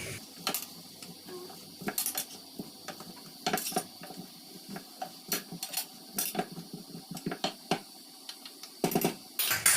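Vegetables are stirred in a cooking pot by one hand: irregular light scraping and clinking of a utensil against the pot, a series of quiet, close taps and knocks with pauses between them.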